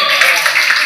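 A crowd claps together at an old home, a steady, dense patter of applause lasting the whole moment with no break.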